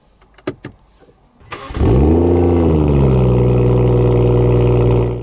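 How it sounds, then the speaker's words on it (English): A 2019 BMW M140i with an AC Schnitzer ACS1 tune at around 400bhp starts up after a few clicks and a brief crank, catching into a loud, close, deep idle that holds steady. "So what I think I'm going to do now is start the car"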